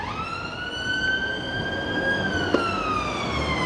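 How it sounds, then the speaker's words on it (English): An ambulance siren wails on Albert Road in Blackpool, a sustained tone sliding slowly in pitch with clear harmonics, loud and steady as it passes along the street, with faint road noise beneath. "Oh, I can hear sirens. It's kicking off. Nah, it's just an ambulance."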